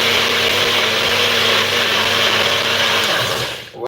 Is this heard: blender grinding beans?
yes